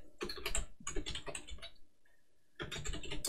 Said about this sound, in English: I am not typing right today.